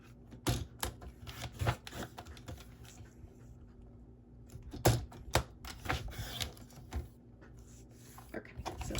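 Scissors snipping paper wrapping for a Hershey Nugget in a series of quick, close, irregular cuts that come in bursts with short pauses between them.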